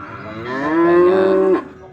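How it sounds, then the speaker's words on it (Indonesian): A single long, loud moo from a thin beef cow past breeding age, a rising low call held steady for over a second before cutting off, with no talk over it. "kita lihat yang sapi khusus pedaging ini ya"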